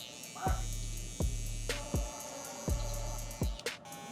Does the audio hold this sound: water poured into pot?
no